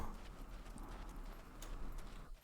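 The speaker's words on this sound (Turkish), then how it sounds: "At sesi geliyor lan." Horse hooves clip-clop in the survival video game SCUM, a soft continuous patter of steps over a dense wash of ambient game noise.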